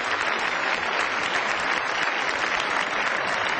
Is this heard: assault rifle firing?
no